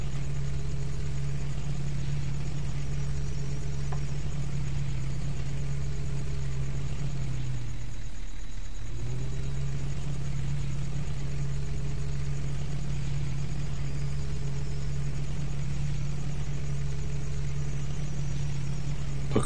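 A truck engine idles steadily in Farming Simulator 2015, a continuous low hum with a brief dip midway before settling back to the same even drone, heard alone without talk.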